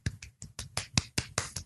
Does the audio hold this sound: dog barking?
no